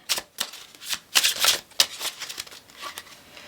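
A deck of oracle cards being shuffled by hand, a series of quick papery riffles and flicks in uneven bursts, close up with no talk.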